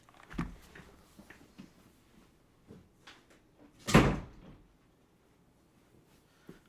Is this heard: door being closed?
yes